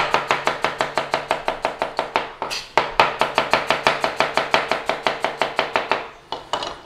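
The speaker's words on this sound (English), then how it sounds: "just cut the potato in half" Knife cutting through potatoes on a board for a Lancashire hot pot, a fast, even run of roughly thirty crisp chopping strokes with one short pause, close and loud.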